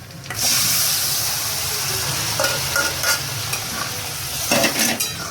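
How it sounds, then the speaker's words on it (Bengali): Boiled lentils (dal), cooked with turmeric and salt, are poured into a hot wok and sizzle loudly and continuously, with a steady hiss and a few brief stirring scrapes and clinks close by. "এবার আমি ডালগুলো কড়াইয়ের মধ্যে ঢেলে দিচ্ছি।"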